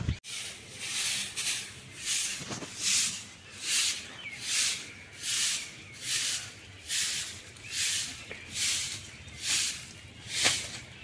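A cloth is rubbed back and forth over a gas stove in a home kitchen, a steady rhythm of about a dozen close, hissing wipe strokes with no talking.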